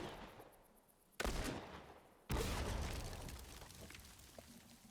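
Two sharp, booming blasts from a trap in the game The Last of Us go off about a second apart, each fading in a long rumbling tail.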